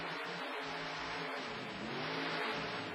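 A Ford monster truck called First Blood revs at the starting line of a 1991 USHRA monster truck show in Uniondale, New York, producing a loud, continuous engine roar that swells toward the end within an arena.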